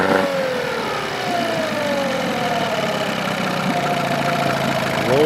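A 15HP Evinrude outboard motor idling low, a steady close-up drone with a slight uneven knock and no talking.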